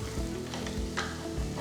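Ginger paste sizzles steadily in a hot pan during Donne chicken biryani preparation, with a few soft scraping stirs rising over the constant frying hiss, close and fairly quiet.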